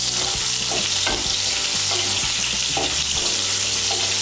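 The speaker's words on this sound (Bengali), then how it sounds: "তুলে নিয়ে এই তেলে আমি পটলগুলো ভেজে নেব।" Peeled pointed gourd (potol) pieces frying in hot oil, a steady bright sizzle with intermittent scraping and stirring clatter from the pan, close and continuous without speech.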